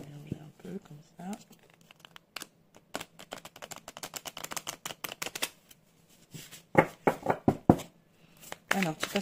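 Tarot cards being shuffled by hand in a run of quick crisp riffles and taps, near and moderately loud, with a softer rustle at the start and a few sharper flicks toward the end.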